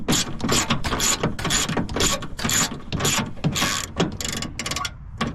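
A ratchet loosens 10mm bolts holding a car headlight, with rapid bursts of close, loud clicking that start and stop repeatedly in quick strokes.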